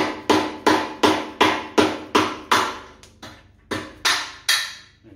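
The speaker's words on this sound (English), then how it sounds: "I'll get a soft wax hammer and try and knock those through" Soft wax hammer knocking bolts through on a stripped-down HQ GTS Coupe, about ten sharp, evenly spaced blows, close and clear with a brief ringing decay after each, no talking.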